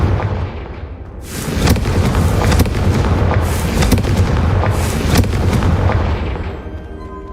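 Confringo explosive spell in the Hogwarts Legacy video game, a loud blast that bursts in after a quiet second, followed by rolling crackling booms and pops that slowly fade.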